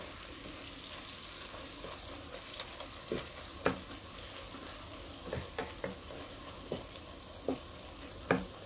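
Bitter gourd (karela) and onion curry is stirred in a frying pan, a steady sizzle broken by repeated scraping and clacking spoon strokes at irregular intervals, close and moderately loud.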